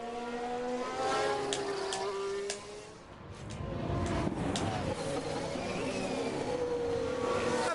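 A Ferrari Formula 1 car races past in the game F1 Manager 22 at the British Grand Prix, its high engine whine rising and fading at a moderate distance against steady track ambience.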